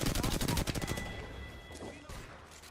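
Rapid automatic gunfire in Apex Legends, a dense burst of evenly spaced shots that tapers off into fainter scattered sounds, loud at the start.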